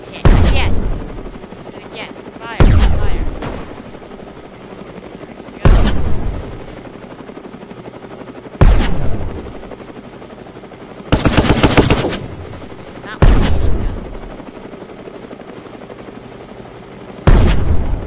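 Military vehicle weapons fire in the video game Brick Rigs: loud separate bursts of gunfire and booms every few seconds, with a steady rotor-like hum beneath.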